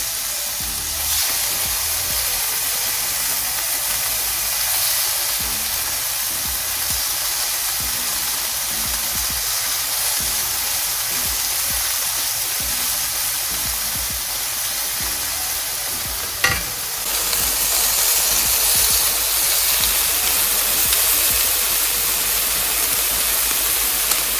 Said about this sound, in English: once you've got your onions and garlic in, you want to keep stirring there until they've caramelised.